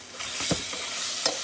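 Marinated fish fries in a pan and is stirred, with a steady sizzle underneath a couple of brief scraping stirs, close by.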